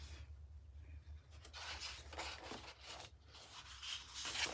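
Paper being cut with a circle cutter for a rainbow craft: soft, scratchy scraping strokes that come in uneven bursts over a low, steady background hum, close and fairly quiet.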